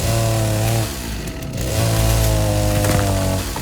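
A chainsaw cuts wood in the game Rust, a loud buzzing engine whine that dips briefly as the cut shifts, then resumes at full roar before easing off.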